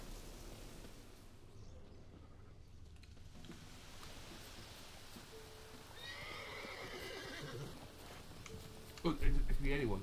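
A horse whinnies and snorts amid hooves and outdoor ambience in The Witcher 3, with a loud, close neigh near the end.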